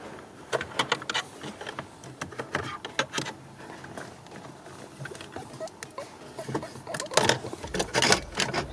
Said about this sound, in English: I'm going to be using the ratchet here.